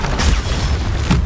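Explosive Confringo blast from Hogwarts Legacy, a loud booming burst near the start and another near the end, heavy low rumble filling the short gap between.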